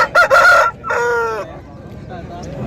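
An Aseel fighting rooster at a Saturday rooster market crows loudly and close by, one long strained call followed by fainter clucks as the sound dies away.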